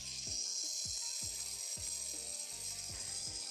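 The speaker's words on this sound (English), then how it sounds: "And I will just drill some more holes into the cannon." A drill working through a model cannon in a workshop, with a steady high whine and repeated rhythmic grinding bursts about every half second, close and continuous.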